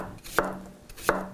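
A knife chops cucumbers on a cutting board, two crisp strikes a little under a second apart, close and fairly quiet, with no talking.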